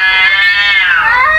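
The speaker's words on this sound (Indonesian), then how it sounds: "emosi hanya dengan suara kucing berantem" Recorded cats fighting, a single loud, close caterwaul that rises and bends downward in pitch, harsh and drawn out with no talking.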